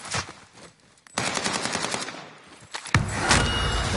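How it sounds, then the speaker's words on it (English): Automatic gunfire from the Warzone video game, rapid bursts of machine-gun fire with short pauses between them, loud and close, alone with no talking. "We need some cover fire."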